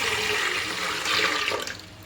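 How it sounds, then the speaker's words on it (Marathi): Water splashes steadily as it is poured from a tambya pot into a metal cooking vessel, a close, loud gush that swells midway and then tapers off. "त्या भांड्यात ना मी एक तांब्या पाणी ओतून घेतो"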